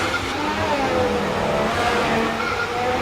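A race car accelerates steadily through the castle section of the Baku street circuit during a qualifying flying lap, its engine note rising and holding loud and close with no pause.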